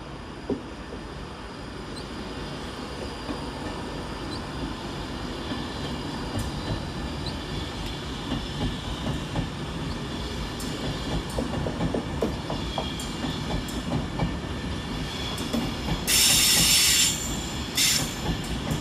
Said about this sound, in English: Departed over on the far side is 390 122 with the 15:33 Avanti West Coast service to Manchester Piccadilly via Crewe